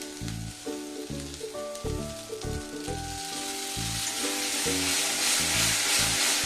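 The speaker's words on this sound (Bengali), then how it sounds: "এবার আমি দিয়ে দেবো টমেটো বাটা" Tomato paste hits hot spiced oil and sets off a loud, close, hissing sizzle that builds and holds steady, while a melodic background tune plays throughout.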